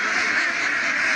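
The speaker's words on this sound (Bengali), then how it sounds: "ওর পিছনে পিছনে সব হাঁসগুলি যাচ্ছে খাবার দিবে" A flock of ducks quacking continuously and fairly loudly as they follow someone bringing them food, a dense overlapping chorus with no talk.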